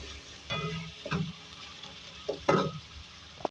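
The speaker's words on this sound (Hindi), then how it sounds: "जब तक इसकी अच्छी सी सोनी सी खुशबू नहीं आएगी उस वक्त तक हम लहसुन को चलाते रहेंगे चमची की मदद से।" Garlic and ginger paste frying in a pan, stirred with a spoon, giving soft sizzling under a few distinct scraping strokes at an uneven pace.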